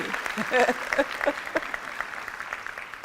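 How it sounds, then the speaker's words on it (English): Thin, scattered clapping from a graduation ceremony audience runs throughout, with a few voices and cheers rising over it early on before settling into light, steady applause. "The applause are very slim"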